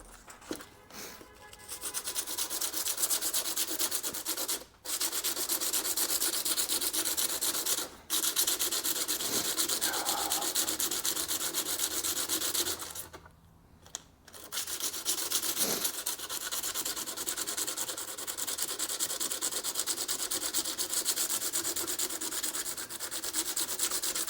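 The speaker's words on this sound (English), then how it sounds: "Sand these down too." Hand sanding of parts on a 1976 Corvette during U-joint and differential work, a loud continuous rasping scrub with brief pauses, close by and without speech.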